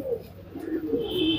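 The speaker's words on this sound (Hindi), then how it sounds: "इसके पुरानी नस्लों के कबूतर आप देख रहे हैं" Old-breed pigeons kept by a fancier in Jaipur coo softly and continuously nearby, low throaty murmurs rising and falling over about a second and a half, with no talk.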